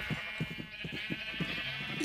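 A flock of Minecraft sheep gives a rapid string of soft, overlapping bleats in a quiet scene, with no talking over them.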